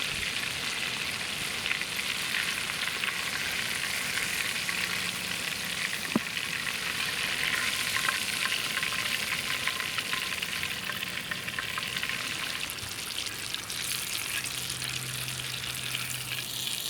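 Sunfish fillets sizzle steadily in a hot pan, a continuous close frying hiss with faint crackles and a few soft clinks, no talking.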